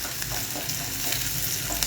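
Green onions sauté in a heavy-bottomed pan, a steady loud sizzle of frying with stirring scrapes throughout, no voices.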